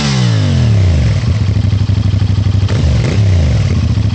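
The stock exhaust of a CFMOTO 450NK parallel-twin motorcycle revs up close, dropping back to a throbbing, pulsing idle, with another short blip of the throttle before settling again.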